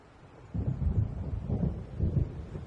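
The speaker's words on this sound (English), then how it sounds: "It seems there's a storm coming." Low thunder rumbles from an approaching storm in the video game Alan Wake, a deep rolling sound that swells in two or three soft waves at a distance.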